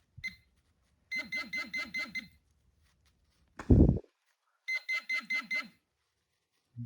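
A DR Otek pinpointer metal detector gives three bursts of rapid warbling electronic beeps, with a short knock or thump between the second and third bursts and quiet gaps in between.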